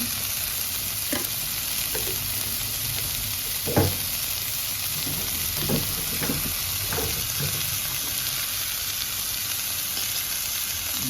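Tofu and tomato curry fries in Sri Lankan style as turmeric and masala powder are stirred in, giving a steady close sizzle broken by soft scraping stir strokes throughout.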